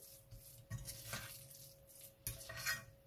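A fork scrapes and taps against a bowl while mashing and mixing seed cracker dough, giving soft irregular clinks and squishy stirring, faint and close with a steady background hum.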